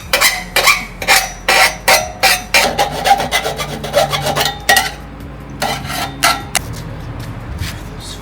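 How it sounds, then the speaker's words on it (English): A hand file scrapes burrs off the cut edge of a metal exhaust pipe for a Mk5 Supra, loud and close in rhythmic push strokes, pausing briefly midway before resuming. "I'm going to go the old school way of just filing the burrs out."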